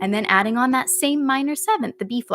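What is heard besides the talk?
No everyday noise stands out behind the speech.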